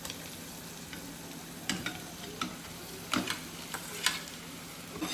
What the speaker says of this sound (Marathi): आणि आता आपण या पूर्ण मिश्रणाला मिक्स करणार आहे